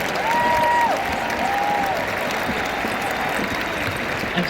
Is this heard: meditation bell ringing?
no